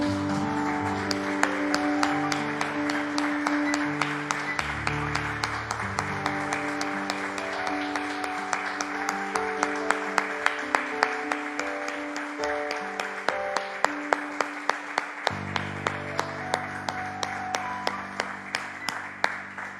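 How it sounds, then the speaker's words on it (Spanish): A church congregation applauds steadily, many hands clapping together over sustained organ-like music, loud and close throughout. "Le damos un aplauso al Señor, hermano."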